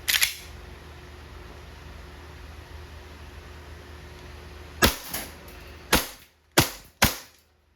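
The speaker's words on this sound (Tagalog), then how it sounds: "Testing po natin yung semi-auto tsaka yung full auto." A WE Hi-Capa T-Rex gas blowback airsoft pistol fires in semi-auto, one sharp crack at the start, then four more after a pause, loud and close, each a quick snap with a short decay.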